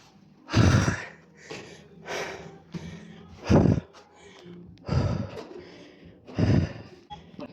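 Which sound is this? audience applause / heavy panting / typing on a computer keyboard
heavy panting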